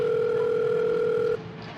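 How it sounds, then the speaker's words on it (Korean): A steady electronic phone tone holds for over a second, then cuts off abruptly, leaving quiet room noise. "그런데 집 안에서 벨소리가 계속 울리더라고요."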